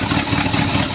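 A truck engine fitted with a mild cam, taken from a van, idling loud and close with a steady, slightly lopey rumble and no voices.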